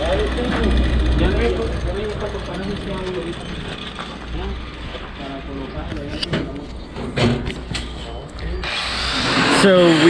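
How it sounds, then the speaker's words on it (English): A grinding tool works on a motorcycle trailer at a gas station in Colombia, a continuous loud rasping whir running under a voice throughout, swelling louder toward the end. "I don't know if you can hear me with all the grinding in the background"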